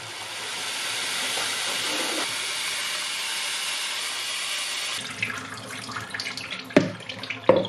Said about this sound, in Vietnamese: để mình rửa nhanh qua cái vòi nước chảy.